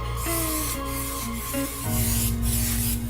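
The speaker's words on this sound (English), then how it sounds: "we're gonna spray it with some coconut oil" Steady hissing spray bursts from an aerosol can of coconut oil onto a donut pan close up, continuous over a faint background hum.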